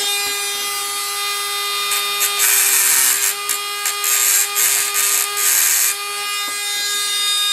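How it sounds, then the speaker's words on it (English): A Dremel rotary tool whines steadily at high pitch while grinding an N scale track cleaning car, with louder rasping bursts as the bit bites into the workpiece, close and loud. "I'm going to get my Dremel out."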